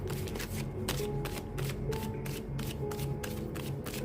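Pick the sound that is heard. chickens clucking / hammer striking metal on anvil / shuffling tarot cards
shuffling tarot cards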